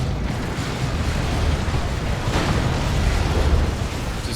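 Heavy turret shots and incoming plasma fire in a Warhammer 40,000: Dawn of War 2 battle between Imperial Guard and Chaos, a dense, continuous rumble of booming explosions and bursts at steady loudness, with no talk.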